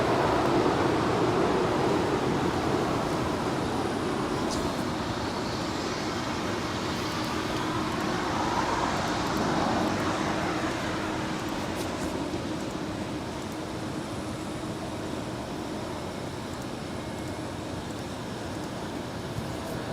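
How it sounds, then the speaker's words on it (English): Atlas Air Boeing 747 from Anchorage landing on runway 25 left at LAX: a steady, broad jet roar that stays loud and even throughout, heard from a distance outdoors, with no talking. "that was Atlas Air Flight 8627 coming in from Anchorage on that 747 going along on 25 left"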